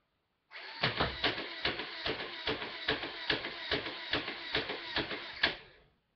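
A battery-powered Nerf blaster fires at a target drawn on a surface, a close, rapid mechanical chatter of about a dozen evenly spaced bursts that starts abruptly and stops after roughly five seconds.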